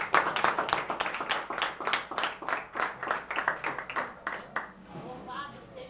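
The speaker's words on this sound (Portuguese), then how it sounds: "Você se assenta e aplaude ao nome de Jesus Cristo" Pentecostal church congregation clapping in strong rhythmic bursts while a preacher talks loudly over the claps, then the clapping thins out toward the end.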